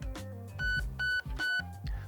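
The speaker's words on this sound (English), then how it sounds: "That'll give you 3 beeps, which will put you into AUG mode." Three short electronic beeps from a Nebula II MOSFET changing modes in a Lancer Tactical Gen4 or Zion Arms R15 airsoft rifle, evenly spaced and fairly faint, between soft mechanical clicks.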